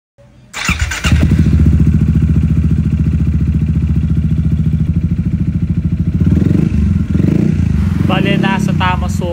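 A Yamaha X-Max scooter engine starts and idles steadily after an oil change, a close, loud, rhythmic putter that holds throughout, with a voice speaking near the end.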